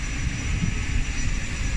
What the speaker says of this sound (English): This is Gibraltar, some private planes.